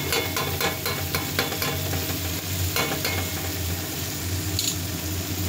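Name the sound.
boiled potatoes sautéing in oil with spices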